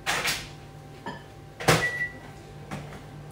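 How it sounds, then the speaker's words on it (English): A microwave oven in use in a home kitchen, with clunks of its door closing, button beeps and a brief tone, then a faint steady hum between sharper knocks. "I'm just going to pop that into the microwave for 30 seconds while I talk through the rest with you."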